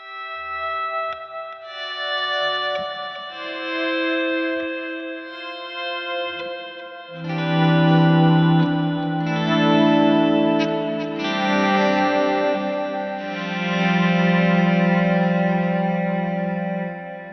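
Ethereal clean electric guitar through the Blackstar St James amp plug-in with front-end compression, notes swelling in by volume pedal, starting soft and sparse and then blooming into loud, lush chords with heavy echo and modulation, no voices.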